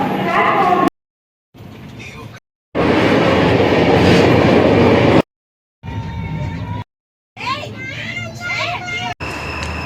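A train rumbles and clacks at Tirumala railway station, loud and close in several choppy segments with sudden cuts between them. People talk and children are heard over the rail noise.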